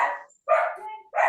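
A dog barks three times in short, loud bursts with brief gaps, the yaps close and clear with no talk over them.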